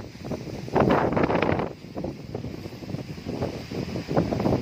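Strong wind buffets the microphone outdoors near Al-Qibli Mosque, a continuous loud rushing roar with gusty swells and no clear speech.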